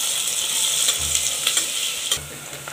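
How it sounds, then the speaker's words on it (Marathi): Chopped onion sautéing in three to four spoons of hot oil inside a pressure cooker: a steady close sizzle with a few soft bumps and scrapes from stirring. "आता कुकर ठेवलाय, त्याच्यात तेल टाकून घ्यायचं 3 ते 4 चमचे. सगळ्यात आधी याच्यात कांदा टाकून घ्यायचा आहे, त्याला परतून घ्यायचा थोडा वेळ"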